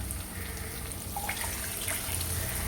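Water is poured into a pan of cooked tomatoes for thakkali upma, making a steady, close, gushing pour that runs without a break and has no talk over it.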